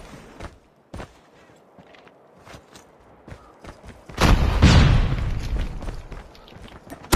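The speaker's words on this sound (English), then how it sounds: "Grenade out!" A grenade blast in an online shooter game, a loud rumbling boom in the middle that fades over a couple of seconds, preceded by sparse clicks and distant gunfire.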